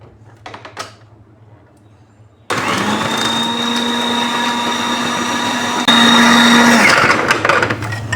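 A Moulinex food processor chops onions: after a quiet stretch with faint clicks, the motor whirs into a steady, loud whine, surges louder for a moment, then runs on before cutting out.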